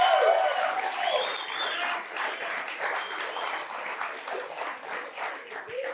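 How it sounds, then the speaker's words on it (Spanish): A church congregation at a sermon bursts into loud, sustained applause that fills the whole stretch, dense and steady throughout, with a few raised voices cheering over it at the start. "Aplaudan, hombres, aplaudan."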